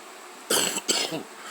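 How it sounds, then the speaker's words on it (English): Two rough, throaty coughs close to the microphone, the second followed by a short raspy tail, in an otherwise quiet room. "I got a bad cough"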